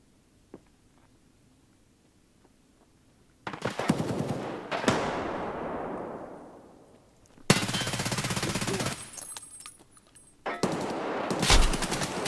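Rapid automatic gunfire in a shooter video game, bursts of loud, dense shots separated by short pauses with a decaying tail after the first volley, no talk over it.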